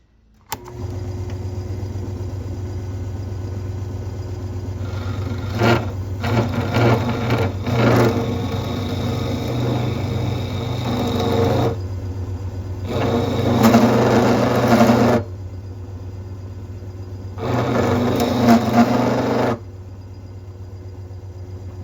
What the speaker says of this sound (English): So this will be the only one that I drill on camera.